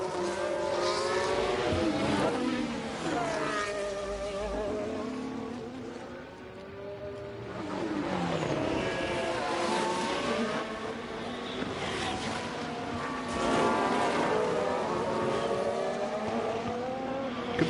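F1 race cars screaming around the track in the F1 Manager 23 racing game, a continuous high engine whine with rising and falling revs as cars pass, loud throughout.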